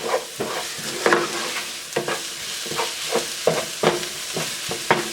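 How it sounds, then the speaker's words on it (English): Onions cooking down with sugar in a pan are stirred with repeated scraping strokes over a low sizzle, each stroke a loud close rasp in an uneven rhythm, with no talking. "Stir it in there real well. And let these onions get nice and brown."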